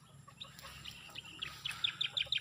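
Soft, scattered chicken calls build into a rapid series of short clucking notes near the end, fairly faint against quiet rural outdoor background.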